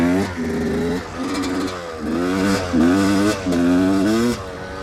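A dirt bike engine climbs a rough, steep hill, revving up and down in repeated surging bursts as the throttle opens and closes, loud and close with no talk.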